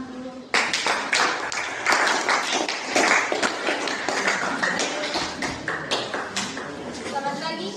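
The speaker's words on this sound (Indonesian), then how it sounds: "Tepuk tangan dulu" A classroom group bursts into steady, dense applause for the next student team, close and loud, with voices mixed in throughout.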